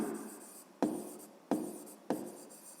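Handwriting with a pen on paper while working a 5th grade math exercise, faint scratchy strokes broken by three sharp taps at regular intervals, quiet and close with no voices.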